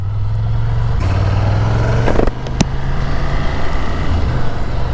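A Ducati Scrambler Icon 800 motorcycle rides along off-road dirt paths with a loud, steady engine drone and wind rush. A brief change in engine note comes near the middle.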